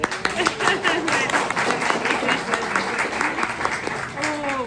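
A church congregation applauds with dense, sustained clapping that fills the room, with scattered voices and cheers mixed into the steady clatter.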